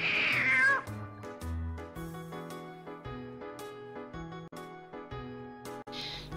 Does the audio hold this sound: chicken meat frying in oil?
no